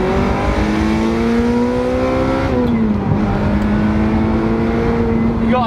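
A Ferrari 355 sports car engine revving on an Essex road, loud and close, with a rising rev that drops and settles into a sustained high-pitched engine note; faint voices may sit underneath.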